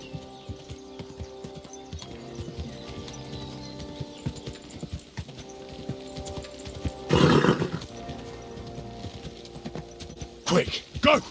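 Faint clip-clop of horse hooves in the video game Kingdom Come: Deliverance 2 under quiet talk, with two louder bursts of noise later, like a horse snorting or neighing.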